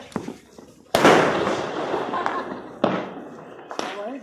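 Diwali firecrackers burst in loud, sharp bangs, a big one followed by smaller pops and crackling decays, while people talk nearby.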